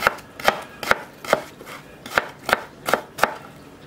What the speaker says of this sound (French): j'ai plus qu'à les couper comme ça, dans ce sens-là